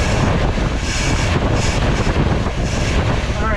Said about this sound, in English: Squealing the belt when I give it some juice